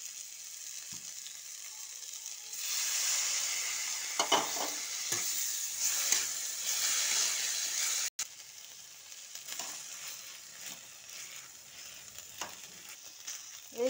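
Greens and potatoes fry and sizzle steadily in a pan, with a spoon stirring and pressing them through the mix, close and fairly loud, and scraping clatters scattered throughout.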